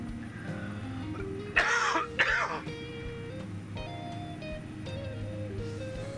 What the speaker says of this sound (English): Oh, I hate when I get these coughing fits.